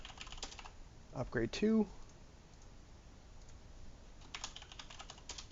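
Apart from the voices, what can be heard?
typing on a computer keyboard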